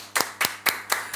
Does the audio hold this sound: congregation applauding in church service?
yes